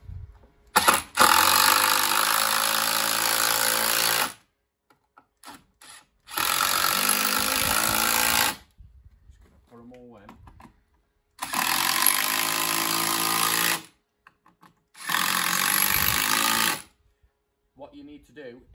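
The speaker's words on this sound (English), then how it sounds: "you need to pre-drill these with the 6mm bit" A power drill bores into pergola timber with a 6mm bit in four separate bursts of a few seconds each, with quiet pauses and brief talk between them.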